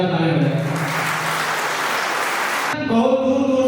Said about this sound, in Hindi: बार सर के लिए जोरदार ताली बजाएं।